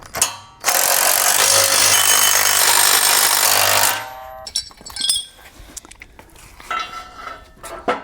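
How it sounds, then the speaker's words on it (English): Power tool driving bolts with a 3/4-inch socket into a tent trailer frame during assembly: one loud, sustained burst of about three seconds, then scattered clanks and handling noises of metal parts. "go ahead and tighten it down with the 3/4-inch socket"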